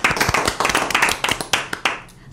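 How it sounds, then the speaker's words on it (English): An audience in a school setting gives a round of applause for the classes, with scattered hand claps rising and falling before trailing off near the end. "Let's give a round of applause to all of our classes."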